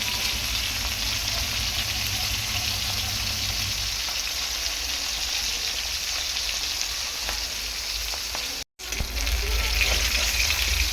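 Pieces of katla fish frying in hot oil in a pan, giving a loud, continuous close sizzle with occasional stirring and a brief break near the end.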